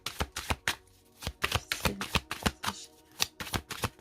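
A deck of tarot cards is cut and shuffled close by, a quick series of crisp riffling flicks and soft slaps in an irregular rhythm.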